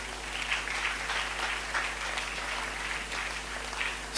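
A church congregation applauds together in steady, continuous clapping that fills the room evenly, with a low hum underneath and no distinct voices.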